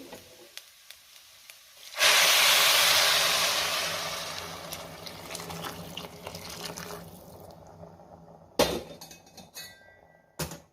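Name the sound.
hot water poured into sautéed rice for khichdi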